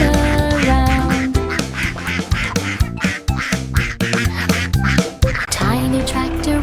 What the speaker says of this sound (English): Quack, pop was the silliest sound.